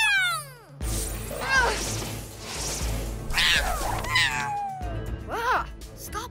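A cartoon cat character meows in a voice imitating a cat, with several rising and falling meows over busy background music and sound effects, and other characters talking.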